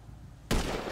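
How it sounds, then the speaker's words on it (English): A sniper rifle fires once in the video game GTA 5. The single shot is sudden, sharp and loud, and its burst trails off briefly after a quiet lead-in. "And now I'm taking a shot."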